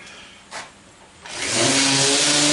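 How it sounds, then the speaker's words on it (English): A power sander grinds over old, dirty reclaimed lumber, starting abruptly partway through after a quiet stretch with a brief scrape, then running loud, steady and close with a constant whirring hum. "you're going to sand this manure off now. Oh, that's all the sander."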